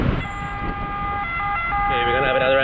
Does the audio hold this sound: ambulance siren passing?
yes